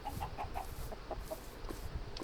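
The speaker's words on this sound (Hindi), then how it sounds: "हमें मुर्गी मिल गई है, मुर्गी को मार देते हैं।" Clucking of a Minecraft chicken during survival gameplay, a series of short soft clucks repeating irregularly over steady background noise, fairly faint and with no speech.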